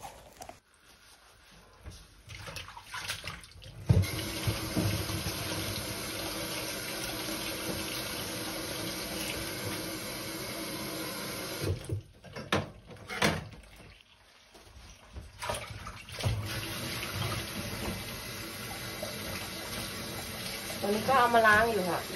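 Dried Chinese flowers rinsed under a running tap, a steady close splash of flowing water with brief pauses as the flow shifts, while someone talks over it.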